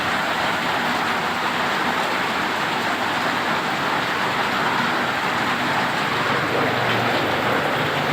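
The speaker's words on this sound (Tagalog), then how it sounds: "Sumilong muna kayo kasi medyo malakas yung ulan." Heavy rain pours down in a dense, steady roar that stays loud and close with no break throughout.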